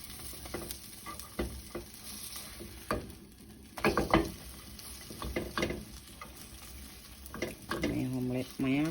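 Chicken sizzles and crackles in a frying pan as it is stirred and turned, with scraping and soft clatter close by and a voice speaking briefly near the end.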